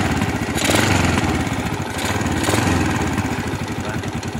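A Yamaha motorcycle engine started with its starter switch runs at a steady, rough idle up close, with a mechanical putter filling the short stretch.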